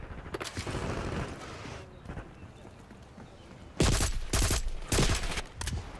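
Gunfire in the PC video game Call of Duty Black Ops 6, bursts of rapid shots over a busy noisy game mix, growing louder and sharper in the second half.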